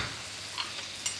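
A Fiorentina steak sizzles steadily in a pan as butter goes in, giving a brief soft crackle and a small pop near the end of this short moment.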